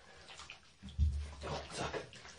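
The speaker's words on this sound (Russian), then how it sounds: "Вода уже почти ушла." Bath water drains from a tub while a cat is being washed: a low, gurgling rumble that swells and surges in a couple of bursts over quiet room noise, with no talk.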